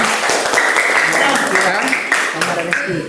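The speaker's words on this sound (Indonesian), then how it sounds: "Tepuk tangan untuk Lady dan" A classroom audience in a sociology lesson claps for two students, a dense burst of applause that fades slightly toward the end, with voices talking over it.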